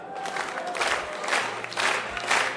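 A wedding crowd claps in a few uneven bursts of moderate applause, heard at a slight distance amid light crowd murmur.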